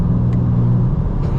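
A 2025 BMW M4 CS engine pulls hard, loud and close, in a short continuous roar with a brief dip as it shifts through the upper gears.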